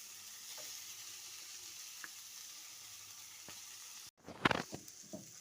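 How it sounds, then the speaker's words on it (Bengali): Mashed potatoes mixed into cooked vegetables in a pan for crispy potato patties, a steady soft sizzle running throughout, then a burst of louder scraping and stirring clatter near the end. "এবার আলুটা সবজির সঙ্গে ভালো করে মিশিয়ে নিচ্ছি"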